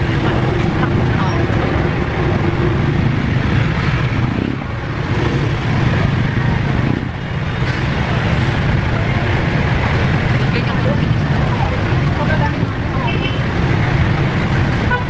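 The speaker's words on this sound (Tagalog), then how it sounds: "Maraming dumadaan sa sasakyan kasi ito National Road." Traffic streams along a busy national road, a loud, constant roar of passing vehicles close by, with brief dips as gaps open between them.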